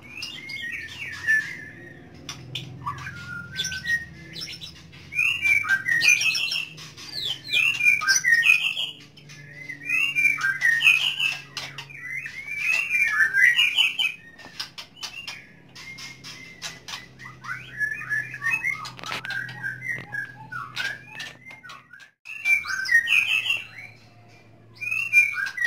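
A male magpie robin sings a courting song, a long run of loud, varied whistled phrases and chirps broken by short pauses, close by with no talking.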